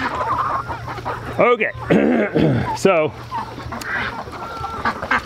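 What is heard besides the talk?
farm birds clucking and quacking, hungry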